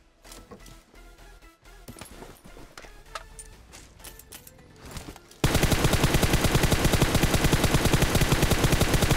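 Gunfire rings out in a battle royale video game, first as scattered shots and clatter, then switching to a loud, sustained rapid-fire burst of evenly spaced shots that runs to the end.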